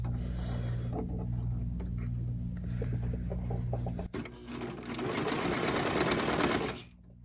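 A serger stitches the sleeve of a doll's T-shirt, first a lighter run of whirring and clicking, then a louder, denser stretch of fast continuous stitching that stops abruptly near the end, up close with no talk.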